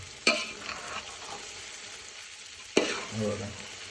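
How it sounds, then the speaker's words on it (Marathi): Rice for veg pulav is stir-fried in a pan, with two sharp scrapes of the spatula against the metal, a few seconds apart, over a soft continuous sizzle close by. "आता राईसला मस्त असं परतून घ्यायचं."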